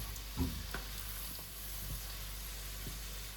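Tinned fish patties frying in hot oil, a quiet steady sizzle with a few soft knocks as they are turned in the pan.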